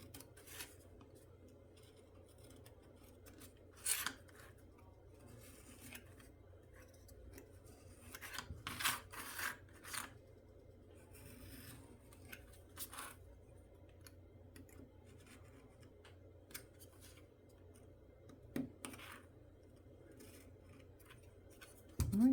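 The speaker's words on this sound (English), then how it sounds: "Now I will flip it over and trim off any extra bits I got." Scissors snip away extra bits of a flipped-over piece in a quiet room, giving sparse, faint, irregular clicks and rubbing scrapes spread across a long stretch.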